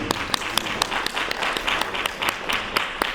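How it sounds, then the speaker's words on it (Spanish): A church congregation claps after a sermon, sharp individual claps standing out in a brief, moderately dense burst of applause, with a little voice underneath. "Un aplauso para la palabra del Señor."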